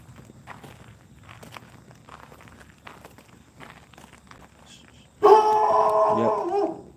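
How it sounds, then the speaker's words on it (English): A dog barks loudly inside a building during a risky urban exploration. Soft footsteps and shuffling come first, then a sudden burst of barking dominates the final two seconds. "There's a dog in here."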